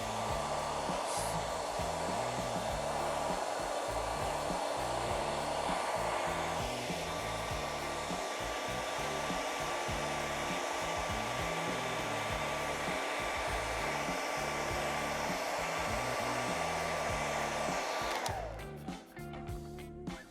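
Hair dryer blowing a steady, loud whoosh as it dries a man's hair during brushing, running continuously before cutting off abruptly near the end.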